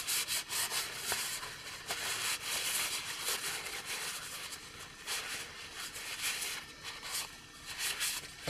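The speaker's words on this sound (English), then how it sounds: "We're going to polish it with a dry bit of towel, removing any excess linseed oil." A dry towel polishes a wooden cup to wipe off excess linseed oil, making a steady close-up rubbing and scuffing that continues with no talk over it.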